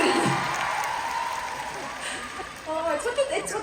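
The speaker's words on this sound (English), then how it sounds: "Can you please give a round of applause to his unique beauty?" Applause from a fan meeting audience in Manila for actor Ju Ji Hoon, a broad steady wash of clapping from a large crowd that fades slightly, with a voice speaking over it near the end.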